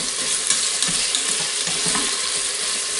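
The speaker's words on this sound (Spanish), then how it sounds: "El chorizo no lo vamos a sofreír mucho porque entonces se quema y amarga" Chorizo with paprika sizzling in hot oil in a pan, a steady close crackle and hiss that runs continuously with faint stirring clatter.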